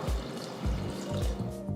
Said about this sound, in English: Now pour about 2 cups of water.